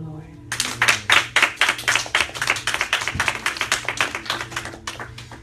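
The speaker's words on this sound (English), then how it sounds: "And may y'all clap for the Lord." A church congregation clapping in a dense burst of many hands, loud at first and gradually thinning out, with low voices murmuring underneath.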